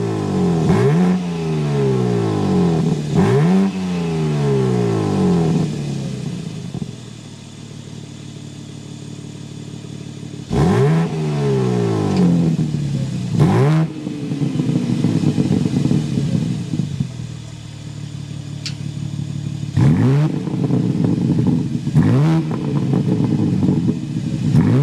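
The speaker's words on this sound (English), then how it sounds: "start it up so you can hear that exhaust note" A 2025 BMW M4 Competition xDrive coupe starts up, then its engine gives several loud, sharp revs that rise and fall in pitch, with an exhaust rumble between them and no talking.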